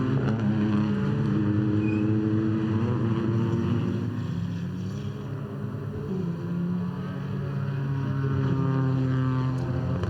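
TCR touring race cars drive at the Lausitzring, their engines a steady, droning roar from a distance that holds level for the whole stretch, with no talk over it.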